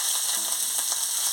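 Garlic and chopped banana stem sizzle and crackle in a hot oiled pan, a steady bright frying hiss close up.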